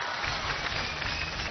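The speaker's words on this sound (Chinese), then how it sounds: "掌声鼓励他一下，好不好？" Studio audience at a Chinese New Year variety show applauding, a dense burst of clapping filling the whole short moment.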